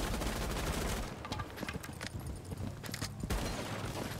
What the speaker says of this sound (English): So then I'll shoot more cameras inside like this